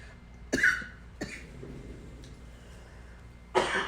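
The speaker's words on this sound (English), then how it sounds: "I've been coughing all day." Two sharp coughs close together near the start, then a third louder cough after a pause, against a quiet room hum.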